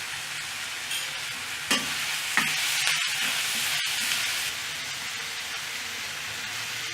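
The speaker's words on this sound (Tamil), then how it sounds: "தக்காளி பழத்தையும் சேர்த்து இஞ்சி பூண்டு விழுதையும் சேர்த்து வதக்கி கொள்ளுக." Tomato and ginger garlic paste frying in oil for scrambled paneer give off a loud, steady hiss, with a few sharp spatula knocks and scrapes in the first half, then the sizzle settles, close and without speech.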